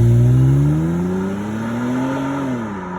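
A salvaged BMW X5 with a misfire issue pulls away on a test drive, its engine note rising and shifting through gears as it accelerates, heard steadily from inside the cabin.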